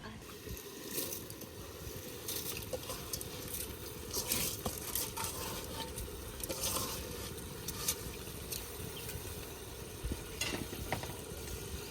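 Rice, lentils and meat stir-fried together in a pot, giving a steady sizzle with scraping and stirring that runs throughout at moderate level, with background noise of a village kitchen.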